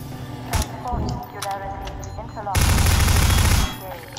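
Gunfire in a Garry's Mod Prop Hunt match: a few sharp shots early on, then a dense, loud burst of rapid fire lasting about a second, with a player talking over the shots.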